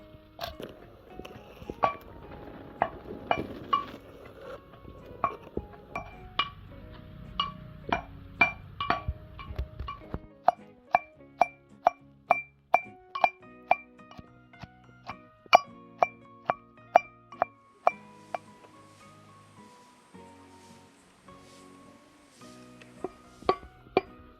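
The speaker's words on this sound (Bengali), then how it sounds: "হামান দিস্তায় আমি থেতো করে নিচ্ছি ওগুলোকে" Raw mango is pounded in a metal mortar and pestle (hamandista), producing a long series of regular, ringing clinks and thuds. Softer mushy crushing comes early, and the strikes grow sharper and more evenly spaced later, close up with no talking.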